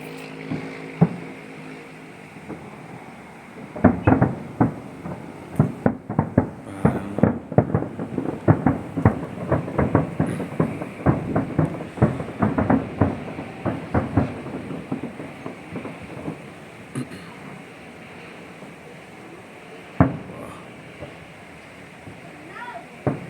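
Fireworks going off outdoors in rapid succession, a dense run of sharp bangs and crackles building in the middle, then thinning to scattered pops, with men chatting in between.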